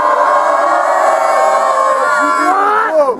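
A crowd at a rap clash cheers and whoops loudly in one sustained burst of shouting and yelling, high young voices mixed in, lasting a few seconds before dropping away.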